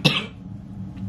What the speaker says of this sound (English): And I keep coughing.